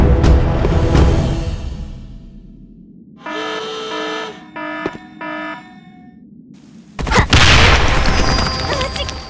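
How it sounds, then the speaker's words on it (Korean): A grenade blast from the Sudden Attack shooter game erupts near the end as a loud, sudden broadband boom, following earlier bursts of gunfire and game alert tones in a busy match. "수류탄 투척!"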